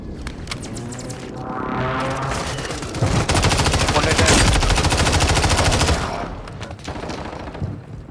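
Rapid automatic gunfire from a Call of Duty match rattles out in loud sustained bursts, building into a dense fusillade mid-clip before tapering to scattered shots, close and dominant.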